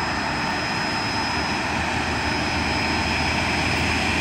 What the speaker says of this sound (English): plane pulling up right there